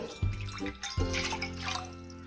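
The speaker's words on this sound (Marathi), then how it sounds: "आपल्याला ह्याच्यामध्ये हे एक वाटी पाणी घालून घ्यायचं आहे" Water splashes and pours in short bursts into a pan for lemon syrup, close and fairly quiet, with brief gurgling pauses between pours.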